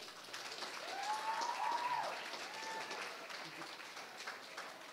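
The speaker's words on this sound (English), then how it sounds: "Please give a round of applause for James and McKenna." Applause rises from an audience at a Unified Champions school rally, a soft, fairly distant wash of clapping with a brief whistle or cheer riding over it.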